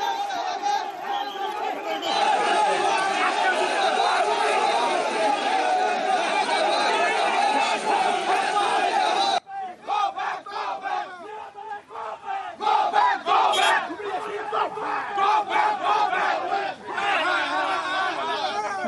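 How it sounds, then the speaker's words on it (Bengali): A large crowd of student protesters in Dhubri, Assam, chants slogans loudly in unison, a dense continuous roar that drops briefly and then surges back with ragged shouting. "বিজেপি নেতাদের দেখে সেখানে গো ব্যাক স্লোগান, যে ছবি আপনাদেরকে দেখাচ্ছি"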